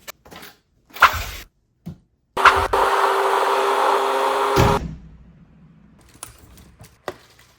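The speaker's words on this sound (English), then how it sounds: "I'm going to grind these down, drill them, so I can use the factory 2mm hexes with the plastic washers" A power tool grinds carbon fiber chassis parts for a Losi LMT monster truck in one steady, loud whirring burst of about two seconds, framed by scattered clicks and handling knocks nearby.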